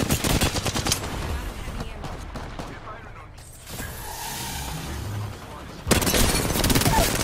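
Rapid gunfire bursts in the Apex Legends battle royale game, loud dense volleys at the start and again near the end with a quieter stretch of game noise between, while a player talks over it.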